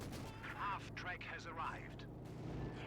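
Pack howitzer artillery booms in a 2v2 tournament match of a real-time strategy war game, several heavy shots and rumbling impacts mixed with other battle noise, heard under a commentator's continuous talking.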